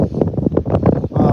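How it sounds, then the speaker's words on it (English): Wind gusts at a lake, heavy buffeting rumble on the microphone with choppy bursts of rushing noise across a short stretch, close and loud. "It's just a little too windy"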